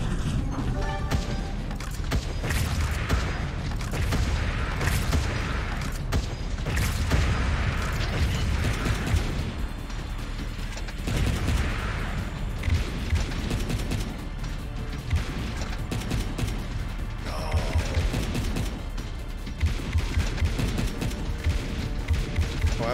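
Barrel launcher weapon firing in the video game Wall World, a busy stream of repeated mechanical blasts, crashes and clanks, loud and dense throughout with irregular bursts.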